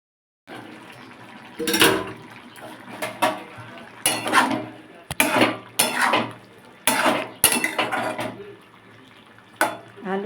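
Metal pot of papaya and chana dal handled in a kitchen, several sharp clanks and knocks at irregular intervals, including a lid being set on, with quiet gaps between.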